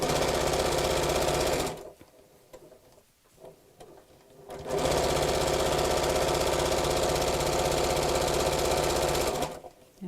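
A sewing machine stitches a tote bag made from fat quarters in two long steady bursts of loud rapid whirring, separated by a quieter gap of light handling noises, heard up close.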